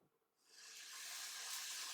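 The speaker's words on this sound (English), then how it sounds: "Splash water, just deglaze it, get all those little bits off the bottom." Water splashed into a hot pan of vegan potato curry, deglazing it and bursting into a loud, steady sizzle and hiss that swells after a quiet start and holds to the end.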